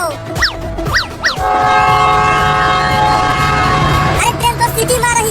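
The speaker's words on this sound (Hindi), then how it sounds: "अरे ट्रेन तो सीटी मार रही है। लगता है अब ट्रेन चलने ही वाली है।" A passenger train sounds repeated whistle blasts, loud and near, first several short rising toots, then a long sustained blast that cuts off, with rail rumble underneath.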